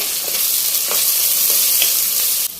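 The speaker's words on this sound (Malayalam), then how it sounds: "സവോള, വെളുത്തുള്ളി, പച്ചമുളക്, തേങ്ങാക്കൊത്ത് എല്ലാം കൂടി ഇട്ട് നമുക്കൊന്ന് വഴറ്റിയെടുക്കാം" Onion, garlic, green chilli and coconut pieces sautéing in hot oil for a soya chunks fry, giving a loud, steady, close sizzle with faint stirring ticks over it and no voices.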